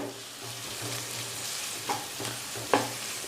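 Onion and ginger-garlic paste sauté in a hot pan for a kandā karandi dish, giving a steady close sizzle with a couple of brief stirring scrapes and clinks near the end.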